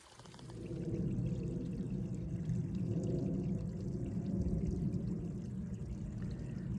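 A small waterfall in a clough on Chunal Moor, a continuous rushing pour of water close by, steady and full-bodied after a brief swell at the start, with no talking.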